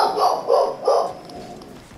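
A dog barks three times in quick succession, loud and close, with the barks spaced about a third of a second apart before the sound trails off into quiet room tone.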